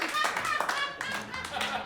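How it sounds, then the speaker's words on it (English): A stand-up comedy audience clapping its hands in a brief burst of steady applause, with a voice talking over the clapping. "clap your hands one more time"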